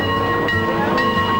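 A Mount Rainier Scenic Railroad tourist train, heard close and steady, with a continuous rumble of rolling cars and a faint high ringing tone above it.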